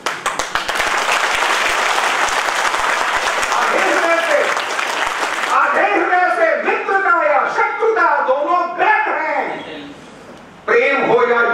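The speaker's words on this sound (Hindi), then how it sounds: "इसलिए मेरे दोस्तों ताली बजाओ तो पूरे मन से बजाओ।" Audience at a patriotic veterans' event in Odisha breaks into loud, full clapping for about five seconds, then the applause gives way to someone speaking into a microphone.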